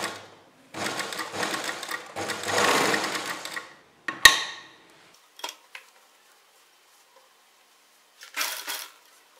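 A sewing machine stitches down the pleats on a kurta in two close bursts of rapid mechanical chatter, followed by a sharp clack, a few light taps and a short final run of stitching.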